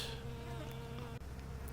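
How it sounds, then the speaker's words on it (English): Honeybees buzz steadily around flowers close up, a continuous layered insect drone with no talking. "Honeybees tooling around."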